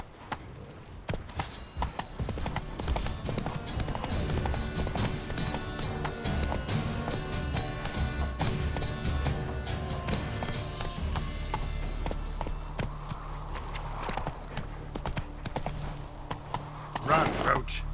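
Roach the horse gallops in The Witcher 3 video game, a quick steady clip-clop of hooves with tack jangling, loud and continuous, with a voice speaking briefly over it.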